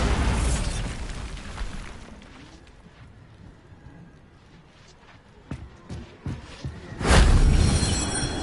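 A Bombarda blasting spell explodes in Hogwarts Legacy, a loud broadband burst near the end, preceded by a low rumbling sweep and several sharp pops and cracks of smaller impacts.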